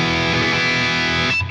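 Heavily distorted electric guitar chord through a captured Marshall JMP amp tone, ringing loud and sustained with a crunchy amp tone, cutting off abruptly near the end.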